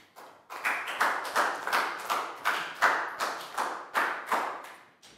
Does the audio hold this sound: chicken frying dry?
no